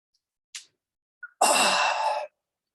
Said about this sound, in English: open your mouth, don't bother covering it, stretch and yawn